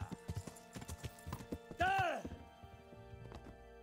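Hooves clop in a quick run of steps in the video game Kingdom Come, then a horse whinnies loudly before the footfalls fade; a voice calls out once.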